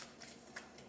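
Glossy, slippery tarot cards being shuffled, giving a quiet, close riffling rustle with a few brief crisp bursts over about a second, with no voices.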